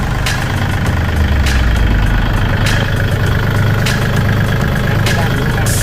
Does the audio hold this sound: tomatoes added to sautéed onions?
no